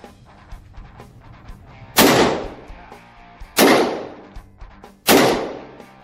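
Three loud, sharp gunshots from a Rock River 5.56 pistol fired at a target about 20 yards away outdoors, evenly spaced roughly a second and a half apart, each followed by a brief echoing decay.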